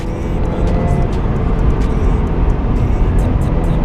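A Mazda RX8 R3 being driven, a loud, steady engine drone with road noise from inside the car, continuous throughout and without talk.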